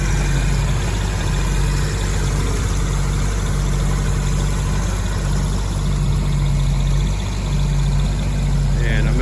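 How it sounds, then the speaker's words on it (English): A 1968 Shelby GT500 KR convertible with its 428 Cobra Jet engine idles in a loud, steady, close rumble, with someone talking over it at times. "So that's the motor running."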